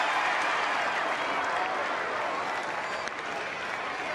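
Baseball crowd at a Texas stadium during a Seattle at Texas game, a steady, dense roar of cheering and applause that holds evenly throughout, broad and enveloping with no single voice standing out.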